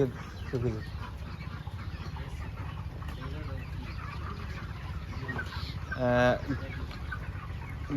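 Thirty-day-old broiler chickens on a poultry farm, a flock clucking softly and continuously nearby, with one louder, brief burst of calls partway through over steady low-frequency background noise.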